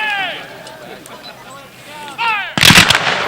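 At a Civil War battle reenactment with period-correct guns and cannons, raised voices are followed near the end by a single sharp, loud blast.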